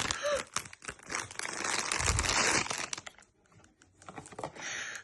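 Crinkly plastic rustling and crackling as a Labubu blind-box packet is handled up close, with brief pauses between bursts of crumpling.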